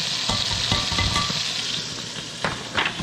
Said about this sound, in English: Okay, so the meat is being browned.